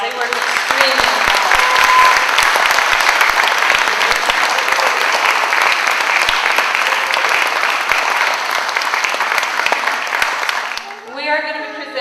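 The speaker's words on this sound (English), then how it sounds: "So they all deserve a round of applause." A graduation audience at an alternative high school breaks into sustained, loud applause, dense and even for about eleven seconds before it cuts off and a voice begins speaking.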